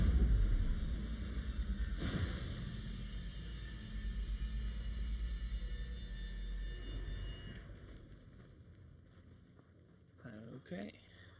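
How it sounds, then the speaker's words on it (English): A spaceship engine in the video game Star Citizen runs with a steady, low, droning rumble and a faint whine. It fades somewhat near the end, where a brief voice-like sound breaks in. "Engine on."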